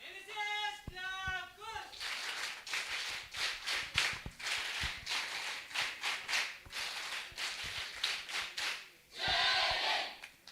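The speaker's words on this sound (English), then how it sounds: "NSS clap for Nelson sir and his entire team of volunteers." A college audience of NSS volunteers and students at a national social work award festival bursts into loud, dense applause that lasts several seconds after a brief spoken introduction, then gives way to a voice.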